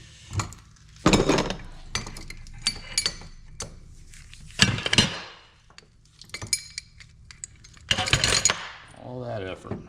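Metal parts clink and tap in scattered bursts while a pulley is worked off the water pump shaft of a John Deere Dubuque two-cylinder engine, with several sharp knocks and a voice speaking briefly near the end.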